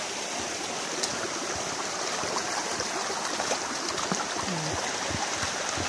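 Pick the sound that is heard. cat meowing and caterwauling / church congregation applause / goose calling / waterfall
waterfall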